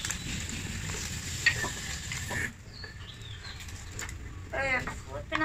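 Egg-soaked bread, Indian style, frying in a pan just after being flipped, with a broad steady sizzle that is loud at first, then settles lower and quieter. Faint voices come through near the end.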